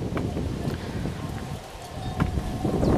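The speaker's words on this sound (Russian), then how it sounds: "блин, ветер дурацкий" Gusty wind in Spain buffets the microphone with a low rumbling roar that dips briefly and then swells stronger.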